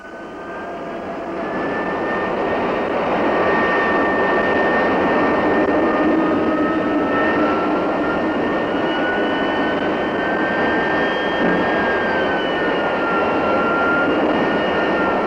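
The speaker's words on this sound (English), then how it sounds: "When the inspection is completed, the plane is moved out to the flight line." A T-33 Shooting Star jet trainer's engine runs steadily on the flight line, a loud, continuous roar with a high whine that rises in after a second and holds for the rest of the stretch.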